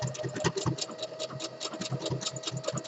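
A home sewing machine stitching a mock reverse cover stitch, a steady rapid mechanical clatter with a faint constant whine running throughout, close and alone.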